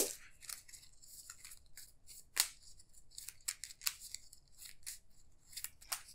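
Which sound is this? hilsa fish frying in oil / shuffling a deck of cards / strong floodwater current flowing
shuffling a deck of cards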